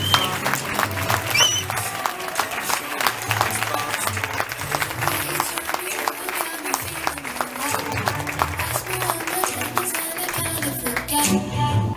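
Applause from the audience at a book launch, many hands clapping in a busy room with a low hum and some chatter underneath, steady and moderately loud throughout.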